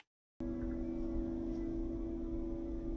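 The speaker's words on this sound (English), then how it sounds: "I'm pretty sure that's a train." A train passing near a campsite in the Everglades on a rainy night, a steady low rumble with a droning hum that sets in abruptly after a moment of silence and holds evenly.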